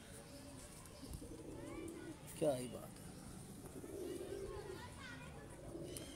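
Pet pigeons coo softly in a yard with children playing nearby, the low cooing mixed under steady conversation and a brief louder call midway.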